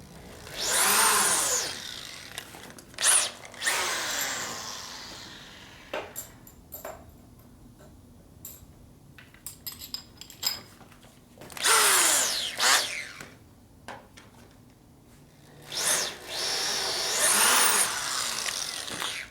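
Power tool driving a multi-flute reamer through a hole in a part from a 1958 Harley-Davidson 74ci Panhead, several loud whirring bursts separated by quieter ratcheting and clicking, close-up and with no talk.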